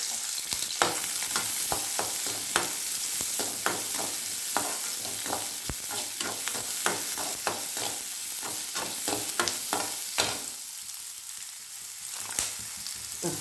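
Garlic sautés in hot oil for a drumstick-leaf chutney, a continuous close sizzle broken by frequent sharp clicks of a spoon stirring against the pan, with no talking.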